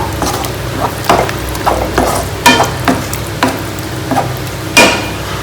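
Mushroom masala with cumin powder is stirred and fried in a pan. A spatula scrapes in a steady rhythm of about eight strokes over a continuous soft sizzle.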